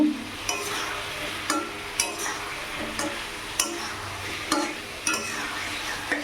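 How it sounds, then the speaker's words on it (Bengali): Cauliflower and potato pieces stir-fried in a spice paste in a pan, a spatula scraping and clinking against the pan in a regular rhythm about once a second over a low, continuous sizzle, with no talking. "এবার এই মশলার মধ্যে ফুলকপি আলুগুলো দিয়ে দিলাম, এটাকে দিয়ে ভালো করে একটু কষিয়ে নেব।"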